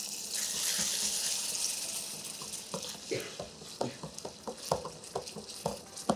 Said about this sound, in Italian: e per continuare la cottura un goccio di acqua.